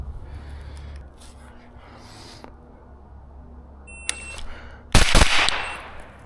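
A single loud gunshot cracks at a shooting range during a timed drill, preceded by a quieter sharp report, with steady low background noise.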